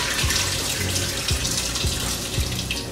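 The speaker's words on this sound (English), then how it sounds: "we're going to get some cold water on that" Cold tap water pours steadily into a pot of salt fish, a continuous splashing rush with faint low thumps now and then.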